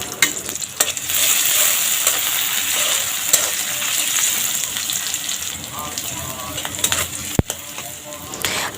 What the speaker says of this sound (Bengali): একটি প্যানে পরিমাণ মতো তেল গরম করে এখানে দিয়ে দিচ্ছি আদা কুচি এর সাথে অ্যাড করে দিচ্ছি রসুন এবং পেঁয়াজ কুচি